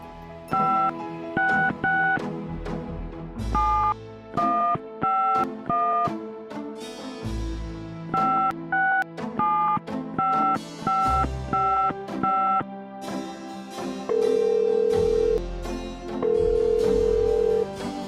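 Touch-tone telephone dialing in the Gabriel Knight: Sins of the Fathers video game, a long string of clear DTMF key beeps in rhythmic groups, followed by two steady ringback tones.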